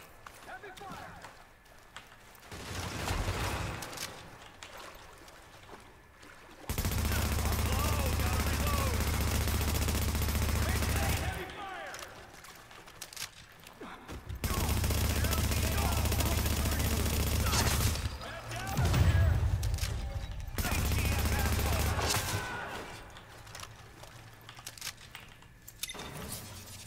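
Dense automatic gunfire rattles in sustained bursts, loud and close, in the video game The Division, with quieter gaps between bursts where voices talk.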